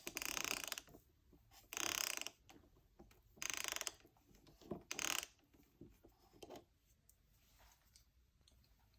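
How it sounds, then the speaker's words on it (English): A 10 mm socket wrench ratchets a nut off a Breville grinder in several short bursts of rapid clicking, each burst separated by quieter pauses with faint handling noise. The sound is close and quiet. "To remove the nut, we're going to use a socket wrench, 10 millimeters."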